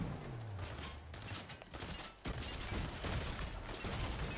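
Dense, rapid bursts of Fortnite gunfire crackle continuously over a low mechanical rumble, loud and busy throughout with no voices.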